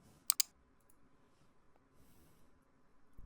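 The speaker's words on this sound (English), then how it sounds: "Now click on create user" Two quick, sharp computer mouse clicks close together near the start, crisp and close, followed by quiet room hiss and a soft breath.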